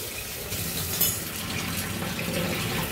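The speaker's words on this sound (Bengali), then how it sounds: "একটু জল দাও।" Water pours into a cooking pan with paneer during home cooking, a steady close splashing gush lasting a few seconds with no talk over it.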